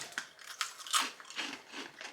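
Light, crisp German snack biscuits crunched up close, a run of sharp, brittle bites and chews coming in quick irregular bursts with no talking.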